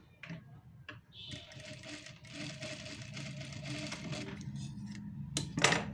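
A sewing machine stitches a hook strip onto a blouse, running in a fast steady whir for a few seconds between quieter clicks and handling, close by and moderately faint.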